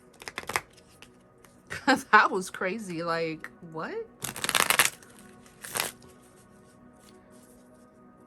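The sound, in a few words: shuffling tarot cards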